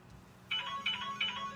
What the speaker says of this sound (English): Oh, now the phone's ringing and Louise has just stepped outside